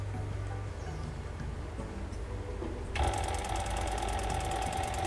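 An industrial sewing machine with a servo motor starts running as the pedal is pressed, a faint mechanical hum that gives way to a steady rapid ticking whir at low speed.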